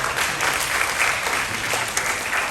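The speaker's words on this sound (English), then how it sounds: "Give you a clap again." A short burst of dense audience applause at a talk on urban placemaking, many hands clapping evenly at close range with no pause or voices.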